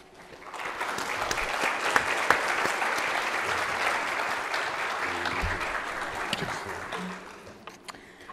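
An audience at a Holocaust memorial program applauds to welcome a speaker, a steady wash of clapping that builds quickly, holds for several seconds and then tapers away.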